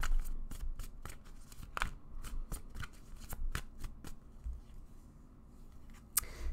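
Tarot cards shuffled by hand at close range, a steady run of crisp riffling flutters and soft slaps lasting several seconds, ending in one sharper tap, with no talking.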